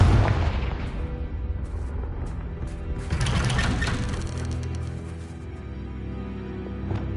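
A Confringo spell explosion in the game Hogwarts Legacy bursts with a heavy boom and a rumbling blast, followed by crackling debris and a fading roar, loud and close.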